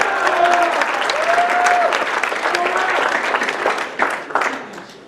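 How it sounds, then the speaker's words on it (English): Applause breaks out at a 2019 baseball banquet, loud clapping mixed with cheers and a whistle-like tone early on, with voices and laughter in the crowd as it tapers off. "so let's get a round of applause."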